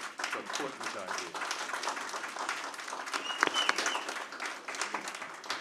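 An audience at a NJ Transit board meeting applauds, a dense, steady wash of clapping lasting several seconds with a few sharper claps standing out near the middle.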